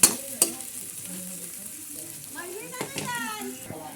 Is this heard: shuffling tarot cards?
no